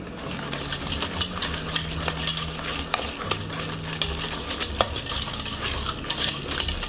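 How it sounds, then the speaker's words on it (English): Sugar and egg being whisked together for rose hip curd, a close, steady run of rapid scraping and clinking against a bowl, with a faint low hum beneath. "And we'll whisk the sugar and the egg"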